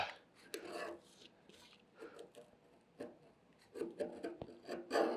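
Hard scraping of weld spatter and paint off cold rolled steel, a series of short rasping strokes close by, with quiet talk between them.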